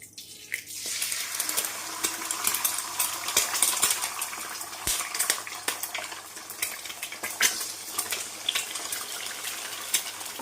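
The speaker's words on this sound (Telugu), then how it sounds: "ఇప్పుడు నూనె వేడైంది ఒక రెండు గుడ్ల దాకా పాలు కొట్టి వేసుకోండి" Two beaten eggs with a little milk hit hot oil in a wide pan and set off a loud, steady sizzle and crackle, with scattered small pops and clinks through it.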